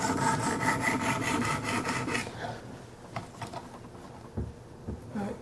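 A Kershaw Skyline knife blade rubbed against stones on a Wicked Edge guided sharpener, giving steady rhythmic rasping strokes that are loud at first, then thin into quieter, softer scrapes.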